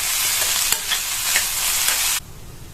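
Snake gourd stir-fry with finely chopped coriander leaves, loud dense sizzling with a few sharp spatula scrapes as it gets mixed, cutting off abruptly near the end, no one talking.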